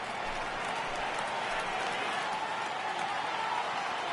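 A baseball stadium crowd in a PS4 video game roars in a continuous, dense wash of cheering and noise, loud and unbroken with no clear single voices.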